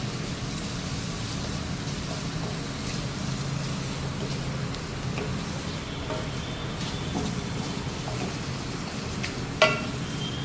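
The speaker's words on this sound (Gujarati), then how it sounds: "હવે બધું મિક્સ કરી દેવાનું." Okra fries in oil with green chillies and garlic being stirred in, making a continuous low sizzle under soft scraping of a spoon in the pan. One brief clink sounds near the end, and nobody speaks.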